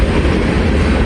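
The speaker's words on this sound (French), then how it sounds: "Donc on a ces trains-là qui passent ici tous les jours, plusieurs fois par jour." Passenger train running between Montreal and Toronto roars past very loud and close, a steady dense rumble of wheels on rails with no break and no talking.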